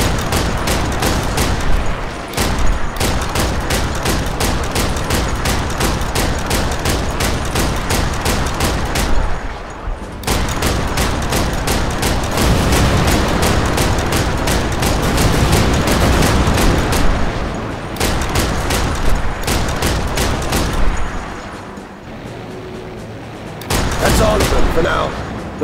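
Loud, rapid machine-gun bursts fire at enemy bombers in the Battle of Britain combat flight game Combat Wings, with long sustained volleys broken by short pauses and a quieter gap before a final burst.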